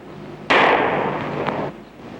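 A single sharp report from a Beretta pistol, one loud close crack that decays over about a second, with a faint echo tail and no talking.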